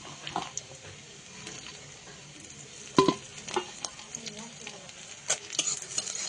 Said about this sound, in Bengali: কড়াইতে পেঁয়াজ আর 5 ফোড়ন দিয়ে দিয়েছি